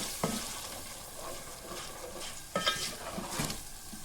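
A paste of ground onion, sesame, coconut and peanut fries in a pan with a soft, steady sizzle, broken by a few scraping stirs. The sound is quiet and close, with no voices.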